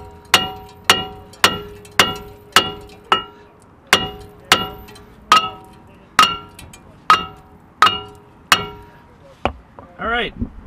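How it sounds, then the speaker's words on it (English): Rust debris from a brake rotor falls onto the ground in sharp, evenly spaced clinks, about fifteen metallic taps in a regular rhythm, close and distinct, ending with a brief sliding metallic scrape. "I gotta show you all the crap on the ground now dropping out of that rotor"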